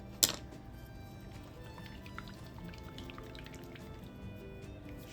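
Water splashes sharply once as an acrylic paint brush is rinsed in water, followed by softer drips and trickling liquid, close and fairly quiet.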